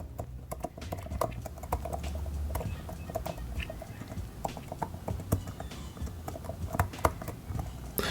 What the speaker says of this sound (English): These scissor switch keys sound really great. I'll let you hear how they sound when you push them